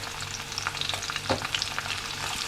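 Steady crackling sizzle of spices and asafoetida tempering in hot oil, with tiny pops and spatters throughout, heard up close and without any voices.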